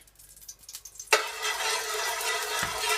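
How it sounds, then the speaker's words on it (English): Quiet clatter, then a sudden loud sizzle as oil hits a hot pan while cooking chicken karahi, sustained crackling hiss continuing steadily to the end. "it's going to sizzle a bit"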